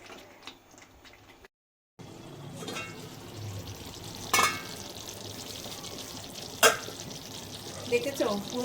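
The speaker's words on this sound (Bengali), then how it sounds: "ভালো করে কিন্তু তলা থেকে নাড়িয়ে নিলাম।" Chicken curry being stirred in a pan, with soft scraping and sizzling under a steady frying hiss, and a few sharper clinks of the spoon against the pan.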